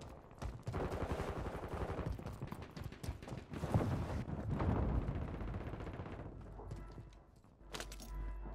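Rapid video-game gunfire, dense bursts of shots running through most of the clip, loud and close, with a short pause near the end before one more burst.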